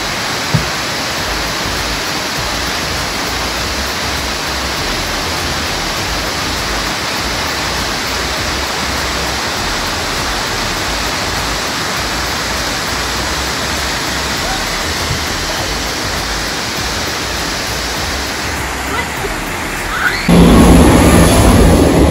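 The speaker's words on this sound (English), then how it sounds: "360 degrees, and there's the waterfall." Black Spout Waterfall in Faskally Woods pours with a loud, dense, continuous roar that stays constant from start to finish, ending with a brief rustle.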